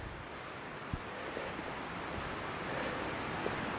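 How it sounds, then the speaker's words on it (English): Wind gusting through trees on a Colorado mountain trail near Diamond Lake, a steady broadband rush that swells slightly toward the end, with faint thumps of microphone buffeting. "The wind has been whipping up pretty good."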